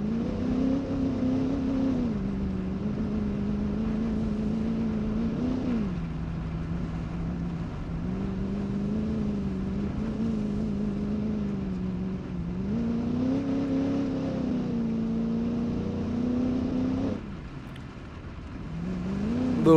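An RV engine in BeamNG drives fast with a steady, droning hum that rises and falls as it revs through turns, loud and continuous, briefly dipping near the end.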